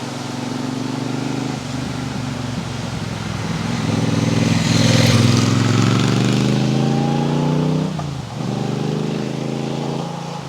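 Triumph Bobber Chrome Edition motorcycle engine heard while riding, a loud rising and falling drone as it accelerates through gears, with a brief dip and gear change near the end.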